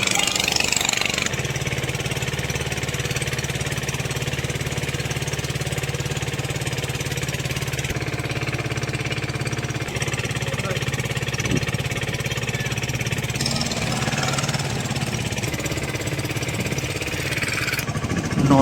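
A boat engine drones steadily and close by, almost unchanged throughout, while the boat hugs the bank of the Narmada river near Omkareshwar.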